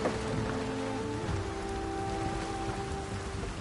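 Rain falls in a steady hiss across surfaces in Horizon Forbidden West, heard near a boat with a rudder, with faint sustained tones and low ambience running beneath the drizzle.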